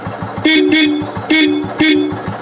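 A restored old Bullet Deluxe motorcycle's new horn honks three times in short bursts, loud and close, with a steady engine rumble running underneath.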